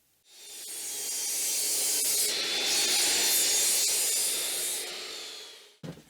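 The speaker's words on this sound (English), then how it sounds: "I have to use my good old router sled." A router sled passes steadily across a wooden board to flatten it, giving a continuous loud hissing, rasping cut that swells in and holds before stopping abruptly with a short knock at the end.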